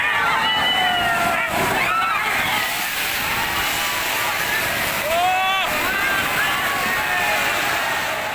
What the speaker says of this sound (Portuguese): esse rio faz até o barulho de um oceano de verdade